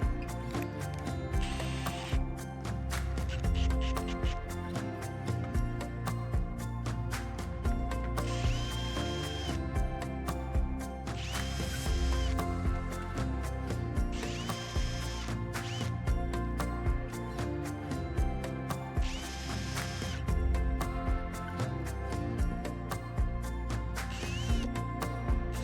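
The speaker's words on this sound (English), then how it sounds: "Switch out to the drill bit that is provided by Bulletpoint." A power drill runs in repeated bursts drilling holes in a Toyota Tacoma dash, with rattling, clicking mechanical noise throughout, fairly loud and continuous over a long stretch.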